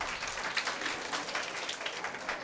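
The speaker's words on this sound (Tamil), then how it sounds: "கைத்தட்டலாம்." A school audience at a Tamil mother-language day celebration in Vellore claps continuously, a faint, steady patter of many hands with no talk over it.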